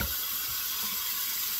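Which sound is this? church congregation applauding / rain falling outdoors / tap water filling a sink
tap water filling a sink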